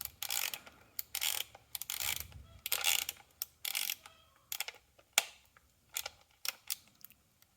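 A ratchet wrench tightens a repaired broken stud bolt on a Nexcell lithium battery for a Prius hybrid, giving repeated close bursts of sharp ratcheting clicks separated by short pauses.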